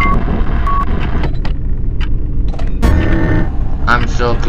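Alarm beeping inside the horror video game Five Nights at Berry's, repeated electronic tones sounding over a dense, rumbling game background, with a sharp burst of noise near the end.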